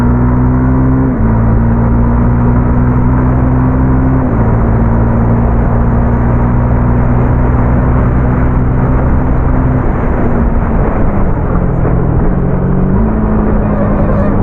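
Honda CB300F motorcycle engine heard while riding, a loud steady low drone that shifts pitch in clear steps as gears change, with muted exhaust tone and constant wind rumble throughout, no talking.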